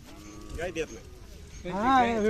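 At a livestock fair, a Khillar cow lets out a loud, low moo that swells and holds for nearly a second, after some brief, quieter animal noises.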